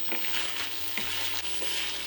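Beef browns in a pot for a one-pot beef and rice dish, with a steady close sizzle and frying crackle and a few light stirring scrapes.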